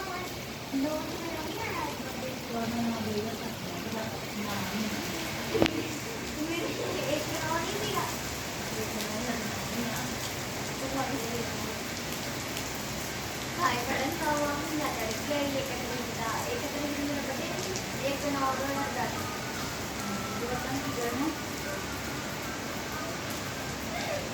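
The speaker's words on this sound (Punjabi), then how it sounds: "ਹੁਣੇ ਫੇਰ ਮੀਂਹ ਪੈਣ ਲੱਗ ਪਿਆ" Rain falls outside in Punjab during flood season as a steady hiss of drops on surfaces, while someone talks over it throughout and a few sharper knocks stand out.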